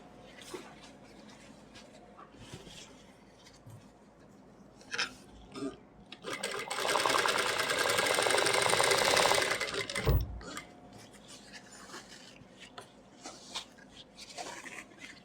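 Sewing machine stitching elastic onto an Afghani salwar, with a loud steady run of about four seconds in the middle, surrounded by quieter fabric handling and short mechanical clicks.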